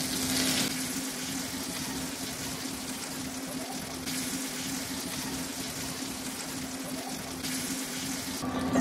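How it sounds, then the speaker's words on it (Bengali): Dried red chillies frying in a pan of oil, a steady soft sizzle with a faint hiss running evenly throughout, close by and alone without talk. "আমি একটু তেলের মধ্যে ভেজে নেবো, তো এই তেলটুকু থাকতে থাকতেই এটা ভাজা হইতে থাক"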